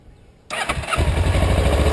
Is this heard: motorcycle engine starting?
yes